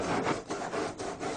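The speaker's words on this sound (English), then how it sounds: "Right now we're using 40 grit sandpaper" Car body panel being hand-sanded with 40 grit sandpaper in straight back-and-forth strokes, a coarse rasping scrape repeating in about five even passes, close and fairly quiet.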